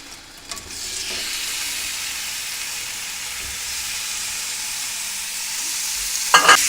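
Marinated chicken dropped into hot oil, a bright hissing sizzle that swells after a brief clatter and holds steady and loud, ending with a sharp spatter burst, no voices.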